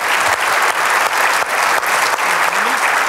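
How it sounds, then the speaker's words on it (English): An audience claps for a filmmaker at a conference plenary, with sustained, dense applause filling the room and a few louder bursts. "please clap it up for the filmmaker"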